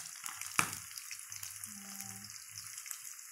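Chicken pieces for ayam kecap fry half-cooked in hot oil in a pan, a steady close sizzle with one sharp crackling pop and faint stirring beneath it.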